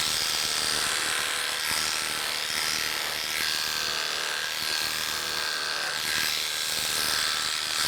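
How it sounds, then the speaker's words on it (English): Electric clippers buzz steadily and close up while clipping a dog's hair with the grain, with a high whirring tone that shifts slightly as the blade moves through the coat. "You can see we're actually clipping with the way the hair grows"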